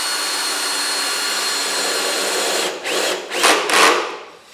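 A power drill with an extension drives star drive screws into wood for a raised garden bed, a steady whirring run followed by several short bursts as the screw seats.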